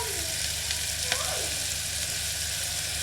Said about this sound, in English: Now we're just going to fry all of this up in a little pan inside first to use as a stuffing for our meat.